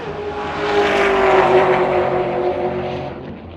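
6.7L Cummins diesel race truck launching down a quarter-mile drag strip on a spool jet, a loud roaring pass that swells quickly and holds a strained, droning tone before easing slightly.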